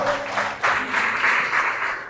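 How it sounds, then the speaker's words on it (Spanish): Dense congregational applause fills a church, a steady wash of many hands clapping together, moderately loud and swelling slightly midway, with no voices rising above it. "Dele ese aplauso al Señor."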